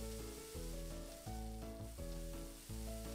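Shrimp and onions sizzling in a pan in the Cooking Mama video game, a synthetic looping sizzle over bright repeating tones that pulse roughly every half second, steady and unvoiced.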